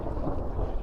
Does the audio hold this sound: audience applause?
no